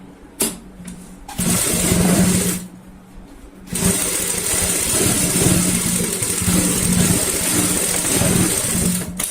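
Electric sewing machine stitching a box cushion cover in loud, sustained whirring runs, with a brief pause and a short burst near the start.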